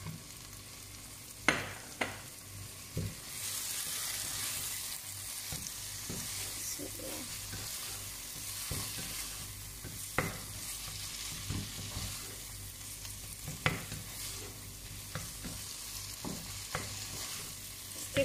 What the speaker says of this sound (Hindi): अब हम इसमें ऐड करने जा रहे हैं टमाटर और हरी मिर्चें।